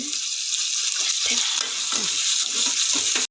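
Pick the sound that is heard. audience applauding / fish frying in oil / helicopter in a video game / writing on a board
fish frying in oil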